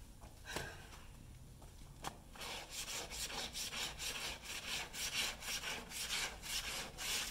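A brush scrubs clothes by hand in quick, rhythmic back-and-forth strokes that start after a few scattered scrapes; it stays fairly faint and close, with no talking.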